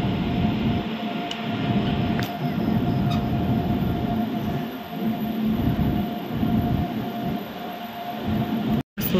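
Himgiri Express rolling into Asansol Junction, a steady low rumble of the train with a sustained electrical whine and occasional faint clanks, continuous and close throughout, ending in a brief cutout.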